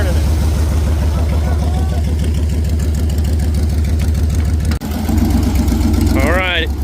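A 5.3 LS V8 in a nitrous race truck runs loud and steady with a pulsing low rumble, then revs up briefly near the end while people shout and talk over it.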